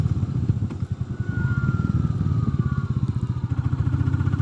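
Royal Enfield Meteor 350 fitted with a belt drive, riding along with a steady low engine thrum and a faint whine rising and falling, continuous and close with no talk.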